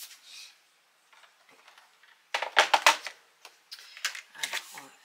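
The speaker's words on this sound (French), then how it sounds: "On va couper." Paper being cut with scissors for a photo album page, a series of quick crisp snips and rustles in short clusters, close and fairly quiet.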